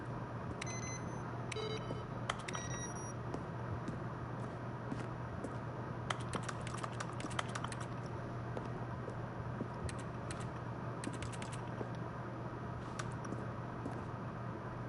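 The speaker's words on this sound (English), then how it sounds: "A selection of sounds used throughout the game where buttons are pressed. Each sound is a mix of keyboard strokes and synthesizer tone." Video game button sounds built from keyboard strokes mixed with a synthesizer tone: a series of short clicky taps and brief electronic bleeps, scattered irregularly over a steady low hum.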